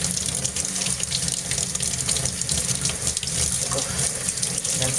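Water gushing steadily from a tap into a sink while something is rinsed off under the stream, a loud, close, continuous splashing rush with no pauses.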